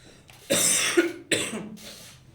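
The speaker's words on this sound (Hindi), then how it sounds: "खांसी बहुत है यार" A harsh, chesty cough, two or three close bursts in quick succession from someone nearby, ending in a faint breathy rasp.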